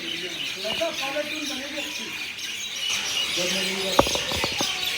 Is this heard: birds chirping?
yes